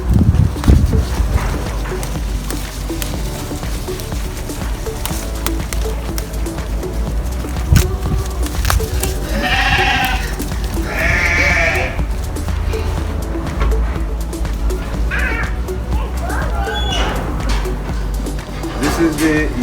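Sheep and lambs bleat in a pen, several wavering calls in the middle among farm background noise, with someone talking throughout.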